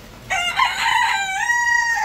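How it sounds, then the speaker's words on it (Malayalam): A rooster crows loudly and close by, one long drawn-out call rising over a quiet background of backyard chickens kept at a home. "കോഴികളെല്ലാം ഇവിടെ നിന്ന് വളർത്തുന്നത്."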